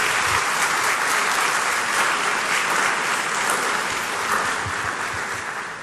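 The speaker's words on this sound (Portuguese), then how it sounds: "Vamos agradecê-los com a salva de palmas." A congregation applauds during Sunday Mass in a parish church: dense, steady clapping from many hands fills the whole stretch, with no voices over it, and it eases slightly toward the end.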